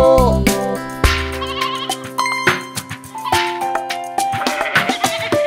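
A cartoon-style sheep bleats in a kids' nursery song, the bleats set among bright tonal music and sung melody, loud and close.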